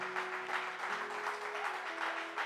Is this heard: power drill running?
no